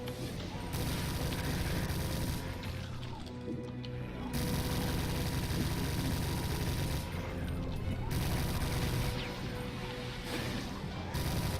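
Minigun firing in the Doom 2 video game, a dense unbroken stream of rapid shots in long sustained bursts with brief pauses between them, loud and continuous with other game effects, no talk.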